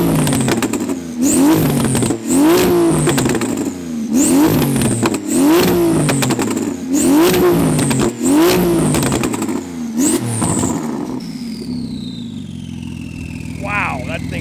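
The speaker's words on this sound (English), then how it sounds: "get McLaren 720S versus GT2 RS down the drag strip" 800 hp Porsche 911 GT2 RS and McLaren 720S drag racing down a quarter-mile strip: loud, close engine revs that climb and drop again and again with gear shifts, fading into a lower roar and distant whine at the end.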